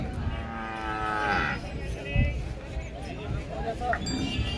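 Bulls and oxen low at the Pebbair Saturday cattle market, with deep drawn-out moos rising over a busy background of people talking nearby.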